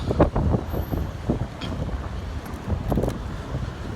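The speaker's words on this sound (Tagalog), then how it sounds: "Ang hangin na, mahangin na siya guys." Wind buffets a microphone with steady low rumbling gusts across the whole stretch, loud and close, with no voices.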